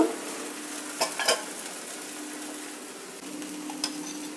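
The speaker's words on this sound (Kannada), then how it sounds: "ಈಗ ಈ ಥರ ಒಂದು ಬಟ್ಲಿನಲ್ಲಿ ತಗೊಂಡು ನಾನು ನೀರು ದೋಸೆ ಹಾಕ್ತೀನಿ." Thin neer dosa batter poured from a small bowl onto a hot pan gives a soft, continuous sizzle, with a few brief clinks and scrapes early on, close and with no talking.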